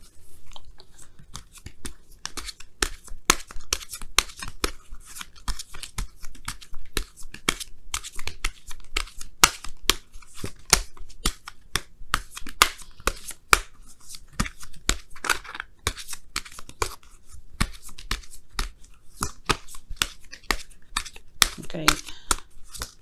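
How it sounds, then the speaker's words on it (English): Tarot cards are shuffled by hand in quick, irregular bursts of riffling and flicking, close and crisp, continuing throughout with short pauses. "I'm going to give you guys a quick shuffle here"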